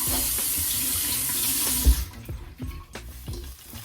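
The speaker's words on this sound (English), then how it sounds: "now I'm just going to wet my little bristle brush" Tap water runs steadily and loudly to wet a small bristle brush used for styling a curly wig, then cuts off, leaving quieter scattered handling noises.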